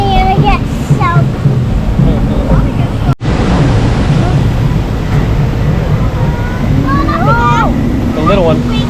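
Water slaps and splashes over a raft on the Kali River Rapids ride, a continuous rushing, wind-blown roar with one sharp drop, while riders shout and talk over the spray.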